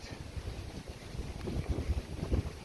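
Outdoor wind gusting across the microphone, low buffeting rumbles rising and falling unevenly, faint overall with no voices.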